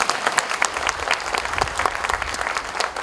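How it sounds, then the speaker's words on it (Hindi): A gathering of former soldiers bursts into steady applause, many hands clapping densely and continuously for about three seconds, fairly close with no clear talk over it. "प्रभु के लिए एक ताली"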